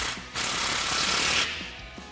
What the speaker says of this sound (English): We're going to take our 13mm socket to tighten that down.